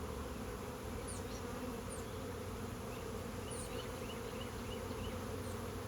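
Honeybees buzz steadily around a backyard hive on a farm, a soft, continuous drone with individual bees passing close now and then, no talking.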